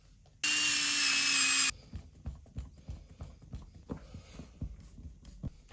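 A brief, loud high whine of a power driver sinks a screw into a Traxxas Maxx RC car, followed by a run of quieter rhythmic clicks and knocks from handling the chassis and parts nearby.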